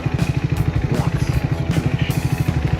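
A motorbike chugs slowly along a pebbly, stony off-road track toward a remote village in northern Thailand, its engine pulsing in steady rapid thumps close by with faint gravel clatter.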